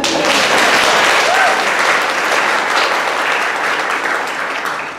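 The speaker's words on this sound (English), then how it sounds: "yes, round of applause for the teachers." School audience giving a round of applause for the teachers during a talk on dyslexia, a loud, dense wash of clapping from a full room that slowly fades.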